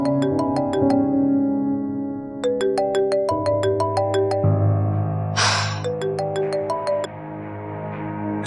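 Phone ringtone playing a bright chiming melody of repeated bell-like notes, loud and close, looping for several seconds with a brief breathy noise partway through and no talking.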